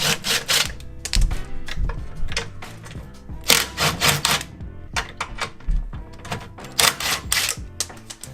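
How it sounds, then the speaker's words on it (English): An impact wrench loosens the motor mount bolts on a Toyota MR2 Spyder's blown 1ZZ engine, rattling in repeated short, harsh hammering bursts with brief pauses between them, close and loud. "I'm gonna impact these 4 bolts up for the motor mount."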